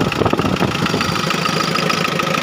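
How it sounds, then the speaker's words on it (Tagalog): A Mitsubishi L200 engine runs at idle after a top overhaul, making a steady, loud, close rumble with an even mechanical rhythm throughout and no one talking. "umaantara po yung makina ng Mitsubishi L2"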